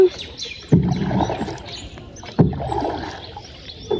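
Oar strokes push a village rowboat through monsoon floodwater, with three distinct splashing pulls arriving roughly every second and a half, each followed by a trailing swish of water. The strokes are close and moderately loud, with no talking.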